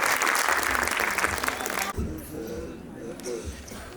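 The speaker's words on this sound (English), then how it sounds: "a big round of applause for all the kids who have performed on the stage" A school annual day audience claps for the children who performed on stage, with a burst of dense applause that stops abruptly and gives way to quieter crowd murmur and voices.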